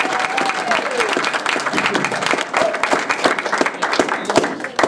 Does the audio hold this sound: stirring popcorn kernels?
no